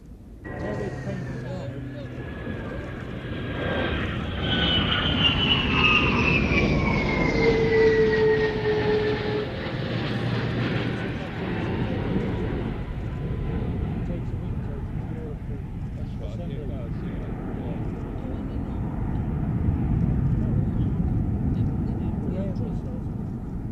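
Aircraft on approach flying past, a rising and falling engine whine with a faint jet roar that swells and then fades, heard under continuous conversation and radio chatter.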